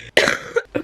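Two or three chesty, congested coughs from a person unwell with an infection, one loud harsh burst followed by shorter weaker ones, close and alone.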